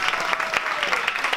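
A theatre audience at the Staatstheater Braunschweig applauds, dense rapid clapping from many hands filling the room at steady loudness for the short stretch.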